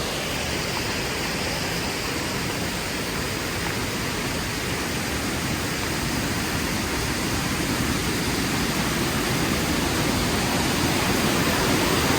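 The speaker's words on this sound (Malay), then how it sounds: "ada air bukit yang mengalir terus ke sungai" Hill stream water pouring continuously into a river in the Baram area, a steady broadband rush of flowing water, loud and close throughout with no other sounds.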